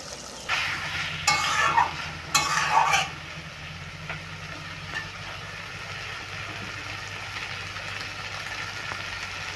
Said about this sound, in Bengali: এবার আমি ভেজে রাখা টমেটোটা দিয়ে দেবো।